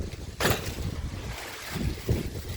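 Gusty wind buffets the microphone with low rumbling bursts, rising sharply near the start and again toward the end, with no one speaking.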